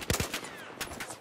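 Battlefield 4 Gun Master match gunfire: a few sharp, rapid shots crack close by in a quick cluster, followed by more scattered bursts, with no speech.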